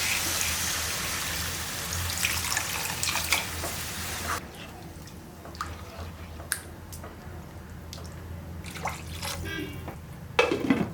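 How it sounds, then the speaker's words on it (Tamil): Water poured into a simmering tomato kurma, a steady splashing pour for several seconds, then softer bubbling and scattered clicks and taps of a cooking pot nearby. "இப்போ தண்ணி ஊற்றிக்கலாம்."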